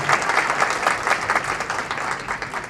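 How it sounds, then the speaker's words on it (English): Crowd applause at a political rally, a dense steady wash of many hands clapping close by, with no talk over it. "it's okay to clap."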